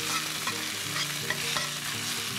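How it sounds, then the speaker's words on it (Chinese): Chicken pieces pan-fry with ginger and chicken juice, giving a steady close sizzle with faint stirring scrapes throughout and no talking. "慢慢啊煎一煎佢啦"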